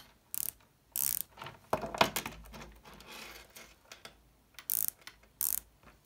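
Several sharp, bright clicks in short bursts with quiet pauses between, from a ratcheting Oris Aquis watch bezel being turned, close up and fairly soft.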